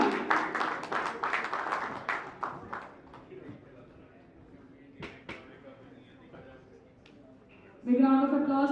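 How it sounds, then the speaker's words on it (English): Applause at a DMET alumni awards ceremony for an honoree, a dense burst of clapping that thins to a few scattered claps and fades, followed by a voice over the hall's sound system. "big round of applause for Gaurav Agarwal, honored for upholding and promoting DMET's core values"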